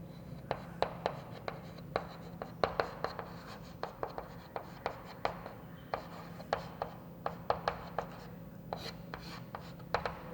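Pen writing a circuit description by hand on paper, a steady run of quick scratchy strokes and taps, close and clear, with no talking.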